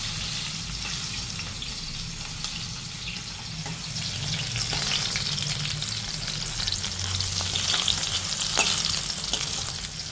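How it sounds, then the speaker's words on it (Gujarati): Onions and bhaji vegetables frying in a pan for pav bhaji, a continuous broad sizzle with soft stirring scrapes, the hiss swelling slightly louder toward the end, no voices. "જો ડુંગળી સાંતળી ગઈ છે, હવે એમાં થોડી ભાજી નાખી"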